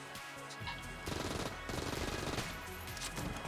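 Rapid AK-47 fire in the video game Enter the Gungeon crackles in dense, rattling bursts, loud and continuous over a steady game background, with no pause for talk.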